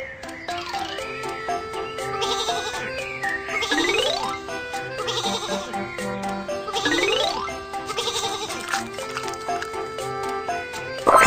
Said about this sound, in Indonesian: Sekawanan domba ada di jalur. Ayo, kita usir mereka.